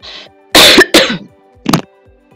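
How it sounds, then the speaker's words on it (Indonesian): A few sharp coughs close to the mic, a short pair then a single one after a pause, with a faint hum behind. "Maaf ya, batuk."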